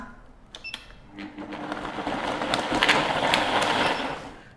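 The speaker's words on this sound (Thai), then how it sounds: "เสร็จแล้วเดี๋ยวนี้จะกดปั่นค่ะ เอาแค่ปั่นแบบแป๊บเดียวนะคะ" An electric blender briefly blends honey jelly, its whirring motor rising and then easing over a few seconds, with some clattering near the start.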